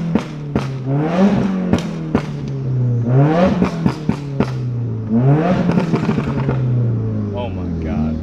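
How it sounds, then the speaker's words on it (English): A Subaru WRX engine revs repeatedly up close, each rising whine followed by sharp exhaust pops and crackles, with someone talking loudly over it. "I found out that my car just pops now"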